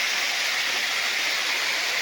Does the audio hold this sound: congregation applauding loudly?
no